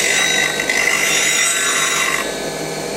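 Wood turning tool being sharpened on a grinder or hone, rolled back and forth against it, giving a continuous close, bright grinding rasp that eases slightly toward the end, with no speech.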